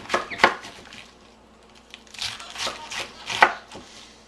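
A knife cuts cabbage into small squares on a board for soup, with a few loud, close chops and crunchy slicing strokes spaced unevenly over several seconds, no talking.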